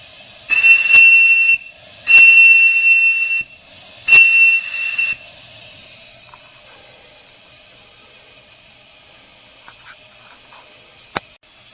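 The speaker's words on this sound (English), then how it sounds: "Oh, the whistle works." Three shrill blasts from a whistle on a 4 1/2-inch vertical model steam boiler, each about a second long with a hissing edge, followed by quiet steam hiss and a couple of faint clicks.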